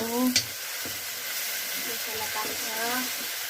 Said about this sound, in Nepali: मसला पाक्दैछ र बेसार पनि राखिदिइसक्नुभयो